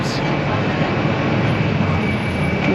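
Loud, steady rumble of a train at Grindelwald, Switzerland, a broad continuous roar close by with a faint high whine running through it.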